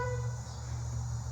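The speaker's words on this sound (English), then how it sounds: "That's how you honk the horn." A steady, droning car horn on a 1994 Land Rover Defender blares continuously for over a second, a harmonic honk held at constant loudness with no talking.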